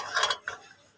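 A key turning in a home's front door lock gives a brief metallic rattle and click, close and quiet, followed by a softer second click and a sharp tap at the end.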